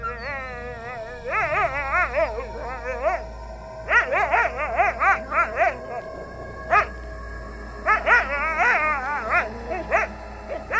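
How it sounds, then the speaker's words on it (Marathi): A pet dog makes odd, wavering howls, yips and whimpering barks in repeated bursts, fairly close, over a low steady hum of a car on the Mumbai–Goa highway at night. "पाच 10 सेकंदानंतर आमचा कुत्रा पुन्हा एकदा विचित्र आवाज काढू लागला"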